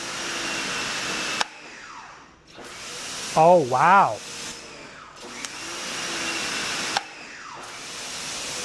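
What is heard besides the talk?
AVA Go pressure washer running, heard from 25 feet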